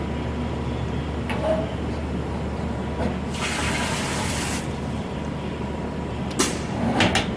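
Air Control FH 45 SS solvent bench stripper switched on, with water standing in for process chemicals; steady running water hisses close by with a brief spray burst and a few clunks.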